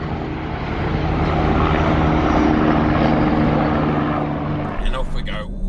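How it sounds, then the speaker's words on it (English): A helicopter passes overhead on a road outside, a broad steady rotor and engine roar building and holding loud for several seconds before fading slightly as other noises come in at the end. "start filming as a helicopter comes over"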